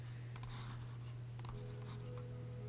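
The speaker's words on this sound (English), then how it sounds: "That's just what my keyboard sounds like, Joe." Computer keyboard keys clicking in a couple of quick separate clusters over a steady low electrical hum, fairly faint and with no talking.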